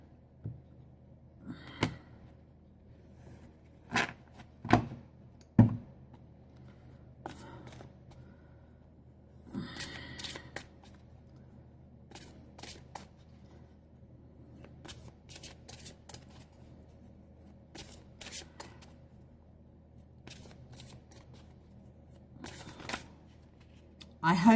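Playing cards being shuffled, several brisk riffling bursts and flicks scattered through a quiet stretch, with someone talking between them.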